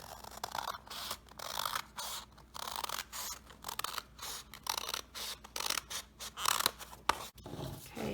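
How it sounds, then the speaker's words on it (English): Scissors snip through paper strips along drawn grid lines, one crisp cut after another in an irregular rhythm, close and clear with no talking. "I'm just going to cut on those lines and cut those all out."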